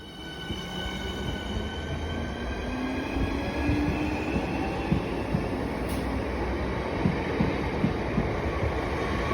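A Class 465 electric train's Hitachi traction motors whine with rising tonal pitches over a steady rumble of wheels on rails, building gradually as it accelerates.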